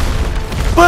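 A tank is blown apart in Call of Duty WWII, a loud, rumbling explosion filling the whole second with deep booming energy before a sustained tonal hum rises at the end.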